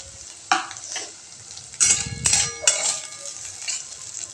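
Potatoes for a fasting-style dish sauté in oil, crackling sizzle broken by several sharp spoon-and-pan scrapes and clinks as they are turned, close and fairly loud.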